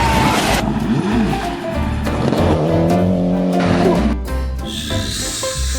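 A toy rally car racing, a buzzing motor whine that rises and falls with squeaky skids and clatter, loud and close, ending in a higher-pitched whirr.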